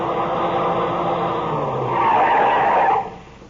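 A car skids on a rough road in a 1950s radio drama, a sustained loud scraping tire skid that swells near the end and then cuts off abruptly.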